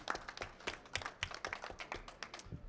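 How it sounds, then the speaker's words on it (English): Scattered audience applause in a photography judging room after a newborn category score is announced, a thin patter of claps that is fairly quiet and uneven, with no voices over it. "Let's have a round of applause."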